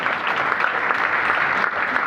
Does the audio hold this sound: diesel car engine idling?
no